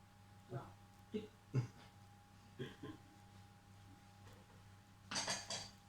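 Spoon scraping and clinking against a bowl while homemade cookie dough with chocolate, oats and flakes is mixed. The strokes are faint and irregular, and a soft voice is heard near the end.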